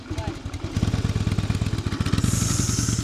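A carbureted motorcycle engine idles close by with a loping, uneven pulse and rattling vibration, and voices talk over it.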